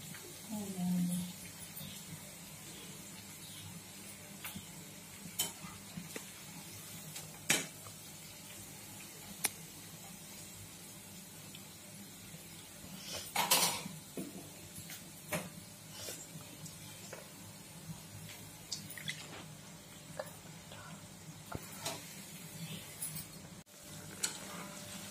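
Ragi bonda frying in hot oil over a high flame, a faint, steady sizzling hiss with scattered small pops and crackles throughout, fairly soft.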